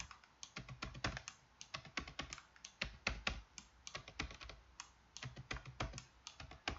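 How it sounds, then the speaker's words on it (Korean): Rapid, uneven keystrokes on a computer keyboard, arrow keys tapped repeatedly while nudging letters in an animation program; close, crisp clicks with no voices. "각각의 글자를 키보드 방향키로"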